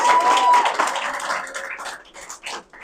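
An audience at a Lisa Middleton event applauds for Madam Chair, a short burst of dense clapping that starts loud and thins out into scattered claps within a few seconds.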